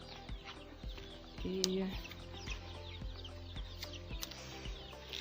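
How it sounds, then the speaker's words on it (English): Village chickens kept in a yard with their chicks cluck softly and intermittently in the background, faint and somewhat distant, while a person talks over them. "These are the chickens"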